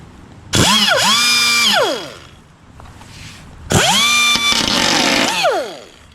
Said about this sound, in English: I had to find a washer and a screw to attach the 3-inch cutoff.